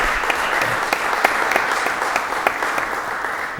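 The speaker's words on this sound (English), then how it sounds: "give him a round of applause, please" Steady applause from an audience at a Lowell city council meeting, a dense continuous patter of many hands with a few sharper claps standing out, filling the whole stretch without talk.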